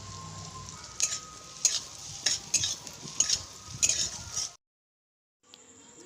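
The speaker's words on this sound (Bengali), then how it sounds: "টমেটো গলে গেলে দিয়ে দেব লঙ্কার গুঁড়ো, হলুদ বাটা দিয়ে ভালোভাবে কষিয়ে নেব।" Tomato masala with chili powder and turmeric paste sizzles and fries in a pan for a Bengali pabda fish curry, with repeated bursts of stirring and scraping, close and fairly loud, then a brief silence before a quieter hiss resumes.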